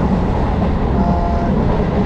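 A local train running near Bongaon gives a loud, steady rumble of wheels and carriage throughout, with no voices over the continuous rolling noise.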